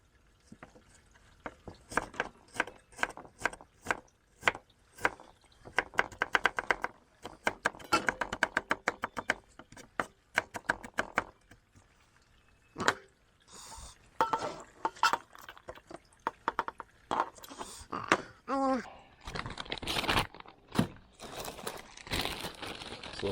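A knife cuts peppers on a board, first in quick runs of sharp, close taps, then in looser, uneven knocks and rustles, with no speech heard.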